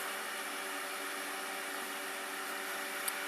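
A vacuum pump pulls vacuum on a cylinder head during valve testing, a faint, even hum with steady tonal lines and a hiss beneath, running unchanged, with a small click near the end.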